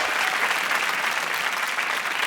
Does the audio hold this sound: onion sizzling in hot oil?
no